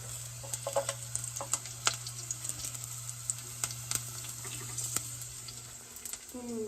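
Onion and garlic fry in a pan with a faint, steady sizzle under a constant low hum, broken by sharp clicks and taps of stirring.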